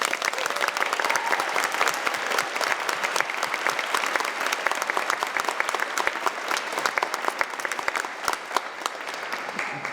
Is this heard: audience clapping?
yes